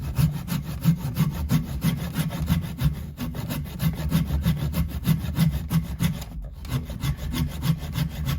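A hand saw cuts upward through wood on a Firebird guitar kit body. Its close, loud rasping strokes repeat in a steady rhythm, with one brief pause partway through.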